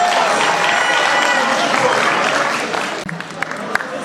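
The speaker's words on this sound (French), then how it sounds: "Augmentez un peu les applaudissements là" A gala-night crowd in Luxembourg claps and cheers in a loud, sustained wash for about three seconds, then drops off sharply to scattered noise.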